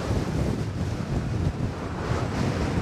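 Gusty wind at Fort Myers Beach roars against the microphone as a loud, broad, continuous rush with uneven buffeting surges and no voices.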